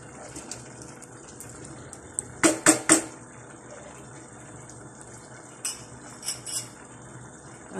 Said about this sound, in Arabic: نضيف الماء